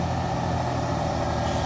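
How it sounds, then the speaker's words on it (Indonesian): Steady, loud diesel drone of a Puso truck idling, its engine about to climb the steep, slippery Kedabuhan hill, with an even low rumble and a constant hiss running through the short stretch. "kita pantau truk Puso yang akan mendaki di tanjakan Kedabuhan"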